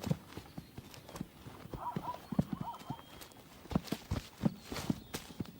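Wild horses, mares and stallions, walking with a run of close hoof clip-clops on hard ground and a brief whinny partway through, fairly quiet overall with a narrating voice over it.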